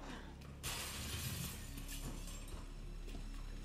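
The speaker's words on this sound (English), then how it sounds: "Glass door's broken." A glass door bursts in Resident Evil 2 (2019), a sudden loud crash of shattering glass followed by a spreading rain of fragments and a noisy tail.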